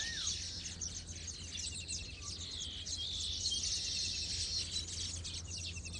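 Baya weaver birds chirp around their hanging nests, with bright overlapping calls and trills that run steadily throughout against a constant low hum of insects.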